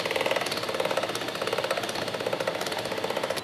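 A hand-fed pasta machine rolls dough into sheets on its largest setting, giving a steady mid-pitched whirring drone with a fast regular pulse that runs without pause throughout.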